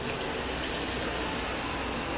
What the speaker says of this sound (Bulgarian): В нея наливаме вода